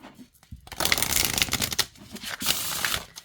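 An oracle card deck is riffled and shuffled by hand in a close, crisp burst of rapid fluttering card slaps, pausing briefly near the start and again midway before resuming.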